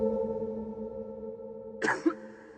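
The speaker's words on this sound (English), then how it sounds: "A person coughs once" A single sharp cough at close range in a classroom-sized enclosed room, brief and forceful, set against a steady low hum.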